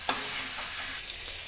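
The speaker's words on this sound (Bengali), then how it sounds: "দেখো বন্ধুরা, পেঁয়াজটা আমার ভাজা হয়ে গেছে" Onions fry in a pan for a chicken curry, a close, steady sizzle opening with a brief clink before settling into an even crackle.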